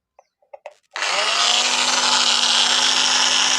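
A Makita M0910 angle grinder with a faulty armature makes a few faint clicks, then starts up and runs as a steady, loud whine that stays at a constant pitch without climbing to full speed.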